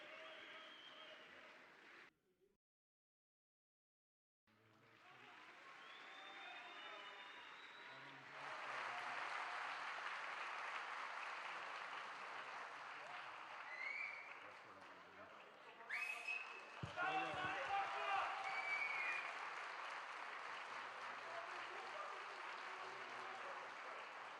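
Applause at a political party event where new members join, sustained crowd clapping that swells and keeps going, mixed with voices and a short silent gap early on.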